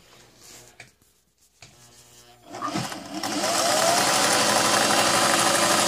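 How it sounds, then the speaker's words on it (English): A Singer 503A Special Rocketeer sewing machine stitches through denim, starting with slow uneven stitches and then settling into a loud, steady, fast mechanical whir close by. "I just wanted to show that it sews through denim"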